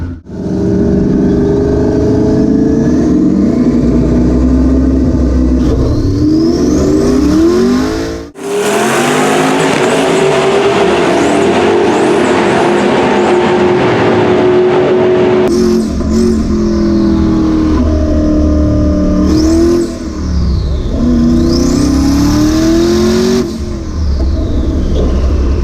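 A drag racing car roars hard off the line and climbs through its gears, each shift marked by a brief dip before the engine screams upward again, loud and close for the whole run.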